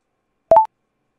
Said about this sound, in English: So the start default one sounds like this